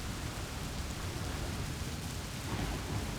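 Steady roar of a thunderstorm with heavy rain in the city-building game Cliff Empire, a dense continuous wash with deep rumbling underneath, fairly loud and unbroken throughout.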